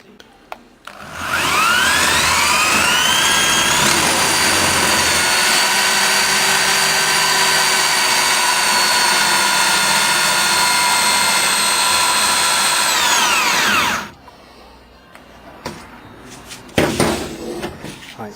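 Power drill boring holes through a wooden speaker cabinet panel on a workbench, a loud close whine that spins up, holds steady for about twelve seconds, then cuts off, followed by scattered knocks and handling.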